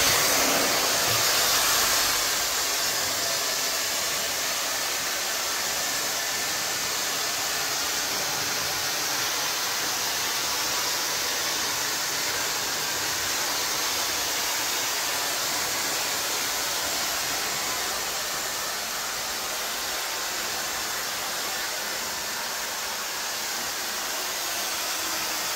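A Cecotec Bamba IoniCare Rockstar Ion Touch hair dryer blows steadily with a loud, continuous airy roar and no pauses or voices.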